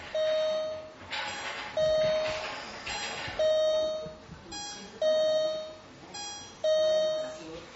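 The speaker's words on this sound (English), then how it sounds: "once the baby is put in the hatch, an alarm is triggered" A baby hatch alarm in Japan is triggered when an infant is placed inside. A loud electronic chime sounds in repeated bursts, roughly every second and a half, each a bright sustained tone, with no voices over it.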